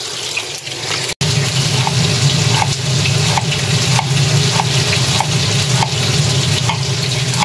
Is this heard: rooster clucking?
no